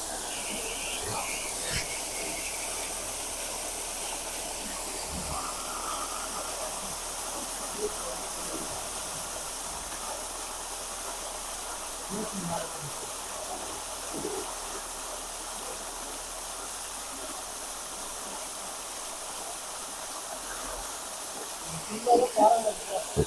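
Water rushing down a mountainside makes a steady, soft broadband hiss that lasts throughout, fairly distant and low in level, with brief faint voices and a few knocks near the end.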